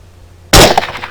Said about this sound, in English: and I'm shooting over the fences here